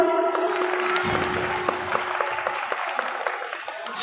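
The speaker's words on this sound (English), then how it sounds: "give them big applause." Children clap for prize winners at a school annual prize distribution ceremony, a steady crowd applause of many hands that runs without a break for several seconds.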